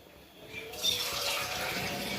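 Water pours steadily into a pot of cooking kodo millet rice for pongal, a broad continuous splashing rush that starts softly and swells louder after a moment, with no voices.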